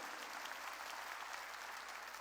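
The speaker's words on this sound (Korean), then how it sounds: "예수를 알게 한 걸 믿으면 박수해야 해." A church congregation claps together during a worship service, producing a steady, even wall of applause that holds at the same level from start to finish, with no voices coming through.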